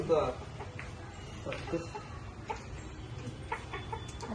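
Hens clucking in short, irregular bursts close by, mixed with faint talking and outdoor background noise.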